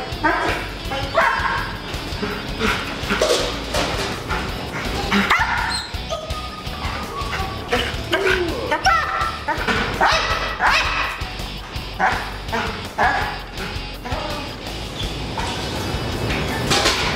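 A Malinois, an IPO-titled dog, barks and yips repeatedly nearby during a visit, with whimpers between the barks, a handler's short commands, and background chatter.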